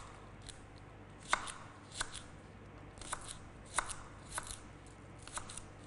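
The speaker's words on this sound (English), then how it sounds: "And then you just chop up your spring onions into little slices." Spring onions being chopped into small slices on a board, a series of crisp knife taps at an uneven rhythm, close and moderately quiet against low background hiss.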